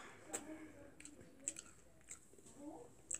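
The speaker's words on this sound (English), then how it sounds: "let me try these fries" Chewing and crunching on Popeyes Cajun-seasoned fries, close and quiet, with a few sharp bites and soft mouth sounds spaced through a short stretch without talk.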